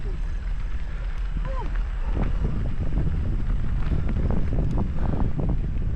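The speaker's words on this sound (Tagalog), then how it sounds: "Grabe yung hangin." Strong wind buffeting the microphone outdoors at a rocky seaside spot, a steady loud roar filling the whole clip, with faint voices talking underneath.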